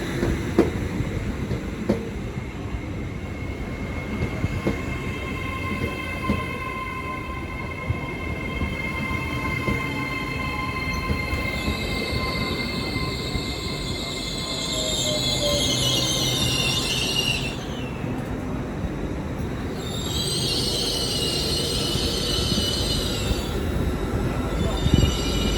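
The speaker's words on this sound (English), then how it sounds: "Now arriving is the 1407 Great Western Railway service from Great Malvern to London Paddington" A Great Western Railway IET class 800 train runs through Slough station with a steady loud rumble and rolling wheel noise, high whines rising and falling over it, and a station announcement voice faint underneath.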